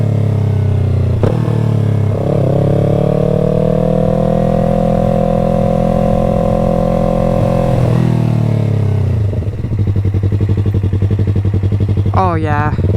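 A motorcycle rides through the night with a hot engine, revving up and holding a steady loud drone, then dropping to a rougher idle-like rumble near the end. Speech is heard over the engine.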